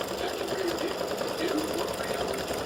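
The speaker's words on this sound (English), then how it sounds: "it'll do the satin stitching around the outside" An embroidery machine satin-stitches around the brim of a hat, a rapid, even mechanical whirr running steadily at moderate volume under a person talking.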